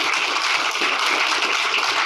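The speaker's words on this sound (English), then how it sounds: "round of applause for that." A round of applause for Lyndon at a Reading Borough Council value engineering presentation: dense, steady clapping from a room of people, fairly close and continuous throughout, with no talking over it.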